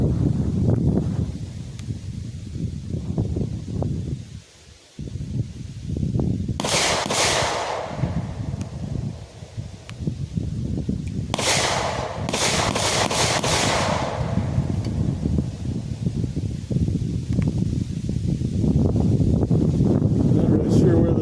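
An AR-15 rifle chambered in 350 Legend fires one sharp shot outdoors, followed a few seconds later by a quick volley of several more shots, with steady wind rumbling against the microphone throughout.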